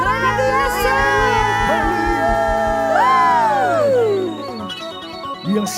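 A church congregation cheers for Jesus, a swelling crowd of voices shouting and whooping together in sustained, overlapping cries that carry loudly, then thin out and fade near the end.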